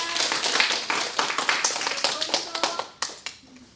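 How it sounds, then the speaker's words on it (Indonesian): Students in a classroom give a group a short burst of uneven hand clapping with distinct close claps, fading out after a few seconds, with some talking mixed in. "kita beri tepuk tangan dulu untuk kelompok 3"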